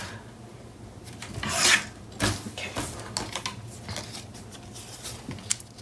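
Paper craft page from a Stamperia Desire collection being trimmed: a short, close rasping cut swells to a peak early on, followed by scattered faint rubs and small handling sounds, with no talking.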